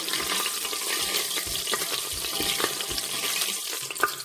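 Beef curry masala being stirred in a pressure cooker: soft scraping and wet sizzling with irregular spoon knocks, a steady close-up kitchen texture at moderate level with no talk.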